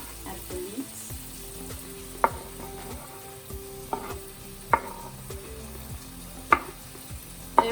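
Prawns and leeks frying in a pan over a flame give a steady soft sizzle, broken by sharp utensil taps against the pan every second or so, close by with no talking.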